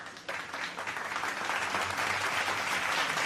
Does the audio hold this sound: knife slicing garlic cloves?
no